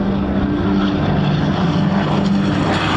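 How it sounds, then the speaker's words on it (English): Propeller engines of World War II warbirds droning steadily at an air show at MCAS Miramar, a continuous broadband roar with a low hum that holds unbroken throughout. "we can hear the sound of their engines"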